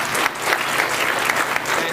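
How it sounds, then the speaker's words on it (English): Conference audience applause, a dense steady burst of many hands clapping close and loud, filling the whole two seconds without speech. "If we can give them a round of applause"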